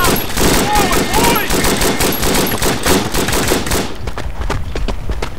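Sustained suppressive machine-gun fire in the World War I shooter Verdun, rapid loud bursts rattling on for several seconds before cutting out, leaving scattered distant shots and thuds behind.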